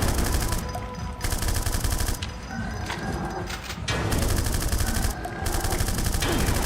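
Loud, sustained bursts of rapid automatic gunfire from a video game, hammering in long volleys separated by brief lulls filled with lighter, scattered shots.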